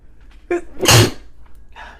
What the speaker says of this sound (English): I'm going to sneeze in a second here.